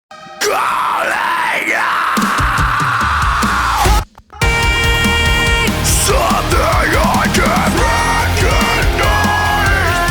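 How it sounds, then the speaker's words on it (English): A harsh screamed vocal, the isolated main scream track of a heavy metal vocal mix, roars continuously and loudly, with a brief gap partway through, then resumes with strained, distorted cries. "let's hear how just the main scream sounds"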